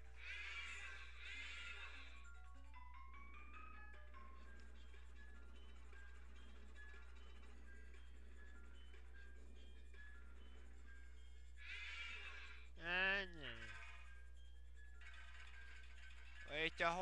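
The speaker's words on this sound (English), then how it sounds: "Wait, the horsey. It's a horsey." In the video game Luigi's Mansion, a horse neighs with a bright whinny at the start and again near the end, over a soft, steady game soundtrack drone.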